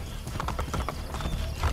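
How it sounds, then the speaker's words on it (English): Horse hooves clip-clopping in Assassin's Creed Brotherhood, a quick steady gallop rhythm throughout over a busy game background. "It's a man on his horse."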